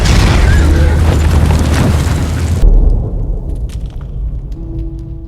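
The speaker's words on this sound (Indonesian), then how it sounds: "dia terkena ledakan RPG" An RPG blast in a war film set during the American fight against Al Qaeda and the Taliban: a loud, deep, close booming explosion that rumbles and fades into a debris-filled tail.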